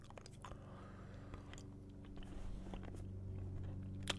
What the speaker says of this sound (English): I'll chew this gum.